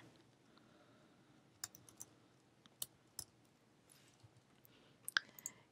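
Sparse, crisp mouse clicks made while selecting menu items in QuickBooks Online, scattered irregularly over a quiet background, close and fairly faint with no voices.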